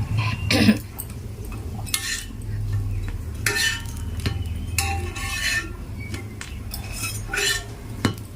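Bread roasting in a pan with butter for a sandwich, with soft sizzling under repeated clinks and scrapes of a utensil against the pan and a brief cough early on.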